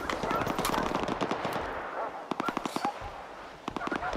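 Rapid, loud shotgun blasts fire in bursts in the video game STALKER 2, with sharp repeated cracks near and close together amid game noise, and someone talks during the shooting.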